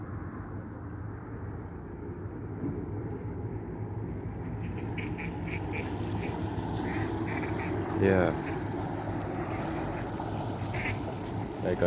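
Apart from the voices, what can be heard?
ducks quacking, spooked by a passing barge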